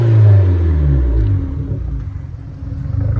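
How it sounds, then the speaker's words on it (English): A stationary Abarth 595 with the 1.4 T-Jet engine gets a brief rev, its exhaust rising into a loud, deep rumble before settling back to a steady idle burble, close and alone without any talking. "Just give it a little bit of a rev so you can hear it."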